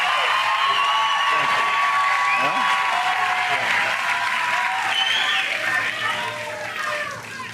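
A large rally crowd claps and cheers continuously, dense applause with whistles and shouts rising through it, loud at first and easing slightly toward the end.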